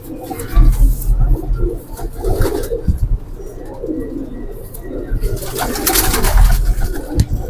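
Pigeons coo steadily in a loft, with overlapping throaty calls and occasional wing flutters and thumps close by, continuous throughout.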